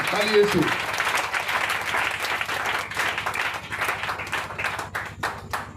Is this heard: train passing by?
no